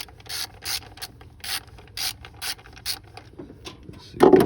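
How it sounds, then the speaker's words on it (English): A hand ratchet clicks in quick repeated bursts, about eight strokes in steady rhythm, while backing out a 10mm screw from a coil pack on a 2007 Dodge Charger 2.7 engine, followed by a brief clunk at the end. "Just getting this little 10mm screw right out of the coil pack, right up top."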